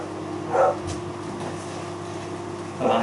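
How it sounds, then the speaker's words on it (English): Two dog barks, one early and one near the end, somewhat distant over a steady low hum. "Hear the dog barking,"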